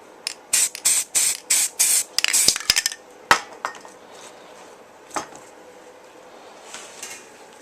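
Short bursts of an aerosol spray can lay camouflage colours onto a paintball marker, about six quick regular hisses followed by scattered clicks, taps and softer spurts at close range, with no talking.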